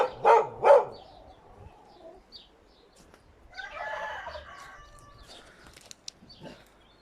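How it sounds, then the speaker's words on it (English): A dog barks twice sharply nearby at a raven in a tree, then harsh raven calls and scattered noises follow in a quiet outdoor setting. "I must apologise to the neighbours for my barky dog."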